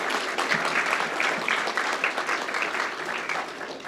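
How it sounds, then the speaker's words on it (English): Audience applause for friends and family at a paramedic course completion ceremony, dense sustained clapping from a room full of people, steady and moderately loud throughout. "So a round of applause for all the friends and family"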